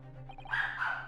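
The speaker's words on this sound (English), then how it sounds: "Dog, that's my dog, yes." A dog gives a short burst of bright yips and barks, fairly faint and set against a low steady hum, with no talking.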